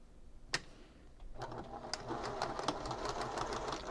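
Sewing machine stitches a braided boho bag, a single click and then a steady close mechanical whir with rapid rhythmic needle ticks building and running on.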